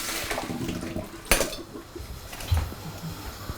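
Hot water from blanching vegetables is poured out of a pot into a sink, a soft continuous splashing rush with a sharp metallic knock of the pot partway through, fairly quiet and with no talking.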